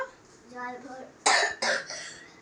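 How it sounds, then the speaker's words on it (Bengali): A young girl coughs twice in quick succession, close and loud, after a few soft childish vocal sounds in a quiet indoor room. "ও কত কাশি হয়েছে মেয়েটার"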